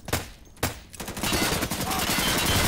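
Sniper rifle fire in Insurgency Source: two loud separate shots ring out about half a second apart, followed by a dense stretch of rapid gunfire and battle noise.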